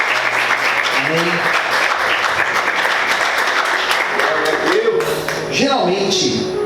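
A church congregation applauds, a dense, steady wash of clapping filling the room, with voices and shouts rising over it and then the applause thinning toward the end.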